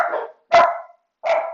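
Pet dogs indoors at home, three sharp, loud barks spaced apart with brief silences between them, close by and with no talk.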